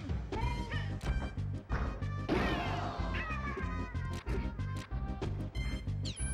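Repeated smash hits and impact effects from a Super Smash Bros 64 Grand Finals match between Fox and Yoshi, with dense overlapping game sound effects and music over several seconds.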